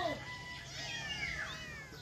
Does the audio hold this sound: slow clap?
no